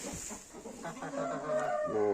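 A plump, heavy-bodied hen clucks and vocalizes close by in a cold outdoor farmyard, a run of harmonic calls rising toward a louder drawn-out cackle at the end.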